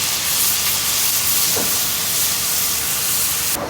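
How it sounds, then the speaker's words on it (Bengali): Hot water poured onto fried spices in a pan sends up a loud, steady steaming hiss and sizzle that fills the whole stretch without any voices. "ভাজা শেষ, এখন গরম পানি দিয়ে দিতে হবে"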